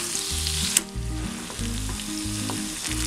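Tilapia frying in hot oil for a Kerala-style fish fry, a steady close sizzle with crackling spits and a sharp pop partway through, and a low pulsing hum running underneath.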